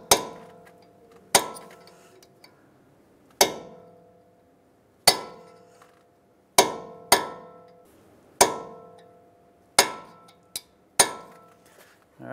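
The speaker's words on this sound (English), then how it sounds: "And we're gonna hammer it down into place." Hammer striking a steel punch to stake an axle nut into its notch during a CV axle replacement on a 2007-2013 Acura MDX; about ten sharp metallic clangs at irregular intervals, ringing briefly and close, with near silence between.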